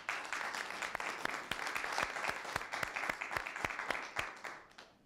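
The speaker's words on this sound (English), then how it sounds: "Let's give them a round of applause." An audience at the Clark County School District 8th grade spelling bee finals claps in a sparse, fairly quiet round of applause, with distinct individual claps that thin out and fade toward the end.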